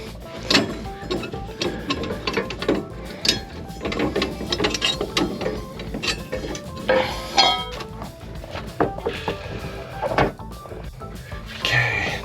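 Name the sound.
removing the foot from RV landing gear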